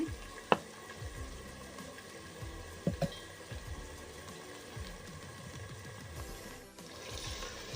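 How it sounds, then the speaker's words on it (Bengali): Masala of tomatoes, chili powder and turmeric fries in oil in a pan for chicken curry, a low bubbling sizzle with a couple of sharp utensil clinks, quiet and steady, no talking. "মশলাটা দিয়ে কিন্তু আমি ভালো করে কষিয়ে নেব যতক্ষণ না তেলটা ওপরে উঠে আসছে"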